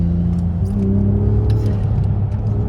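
A stock BMW Z4 is driven during a performance test, its engine giving a loud, close, steady low rumble heard from inside the car, with no talk.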